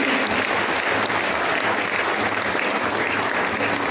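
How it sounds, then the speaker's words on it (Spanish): Loud, dense audience applause greets award recipients at a Son Huasteco music festival in Atlapexco, Hidalgo, a thick wall of clapping that holds steady throughout. "un fuerte aplauso nuevamente para todas y todas las personas que hoy están recibiendo el"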